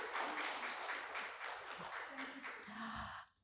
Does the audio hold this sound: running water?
no